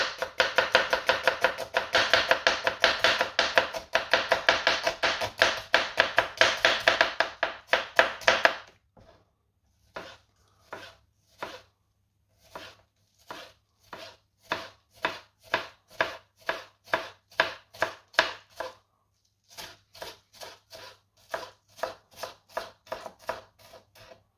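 Knife finely chopping onions on a board, a fast run of rapid close taps, then slower evenly spaced single chops after a short pause, with no talking.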